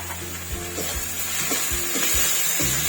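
Tomato and onion with a little salt fry in a pan for moong dal with fish head, a steady close hiss of sizzling with soft rhythmic stirring knocks of a wooden spoon against the pan.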